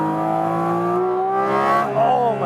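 A 2022 Porsche 718 Cayman GT4 RS engine pulls hard and loud, its steady, rising tone climbing smoothly over a couple of seconds before a brief shift at the end.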